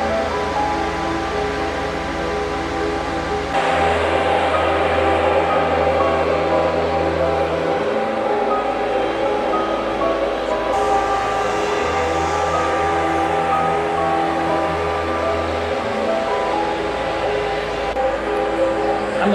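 Steady low rumble of an idling overnight train engine at Van station in Turkey, with a broad hiss, its deep hum stopping and restarting, continuous and fairly loud without voices.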